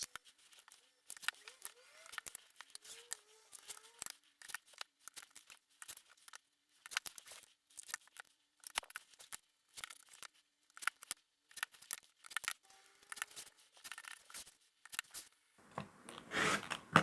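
Scissors snip through fabric while cutting a hexagon shape for a sewn Christmas placemat, a long run of quick, close, crisp cuts in an irregular rhythm, with a louder rustle of handling at the end.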